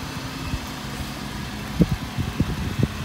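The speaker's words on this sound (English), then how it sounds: "here comes Will with the new car" Volkswagen Jetta station wagon pulling up with its engine running, a steady low idle hum close by, with a few soft thumps and rattles toward the end.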